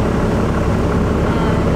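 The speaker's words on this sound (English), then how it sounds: "she's driving a twin turbo 12-valve" A twin-turbo 12-valve Cummins truck engine drones while driving, a dense, steady, loud roar heard close up with no pauses.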